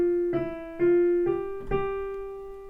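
Beginner piano phrase played with slurs in the left hand: four connected notes, each a clear sustained tone that rings and fades into the next, played slowly and alone in a quiet room.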